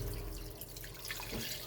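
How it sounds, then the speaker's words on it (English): Water is poured into a cooking pot while making rice and okra, a steady wash of splashing and trickling with a few drips, fairly close and continuous throughout. "So we throw in a bit of water."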